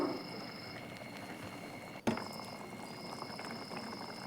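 Egg masala thokku bubbling away in a pan, a steady low simmering crackle and hiss that carries on throughout with a brief break partway, close and fairly quiet.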